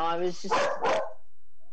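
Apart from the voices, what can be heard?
terrier dog barking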